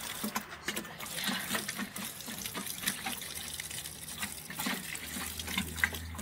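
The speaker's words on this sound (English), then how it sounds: "I'm just watering a bit there." Water splashes and patters steadily onto plants in a backyard garden, a continuous, uneven spray with small bursts, close by and fairly soft.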